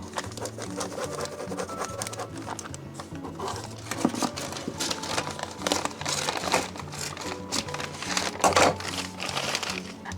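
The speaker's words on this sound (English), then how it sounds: "I'm using pinking shears just because I don't want to use my fabric scissors on this paper" Steady crunching snips of pinking shears cutting through paper, with crinkling and rustling throughout, continuous and close, no talking.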